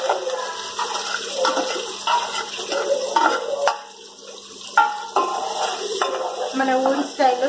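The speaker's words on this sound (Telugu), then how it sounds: "ఒక నాలుగు పచ్చిమిర్చి, అదేవిధంగా ఒక ఉల్లిపాయ వేసుకోవాలి." Green chillies and onion are added to hot oil in a pan for a home-style chicken curry, giving a close, bursting sizzle with repeated stirring and scraping, brief pauses between rounds.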